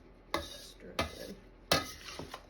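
Beef being stirred with mushroom dark soy sauce in a pot: three distinct scraping, clattering strokes of a utensil against the pan, close and fairly loud, with faint sizzling between them and no talk.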